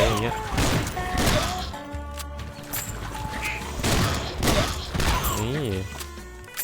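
Rapid gunfire bursts in the Swamp Attack video game, a defender shooting at crocodiles and turtles, repeated sharp shots and thuds layered with game music and someone talking over the action.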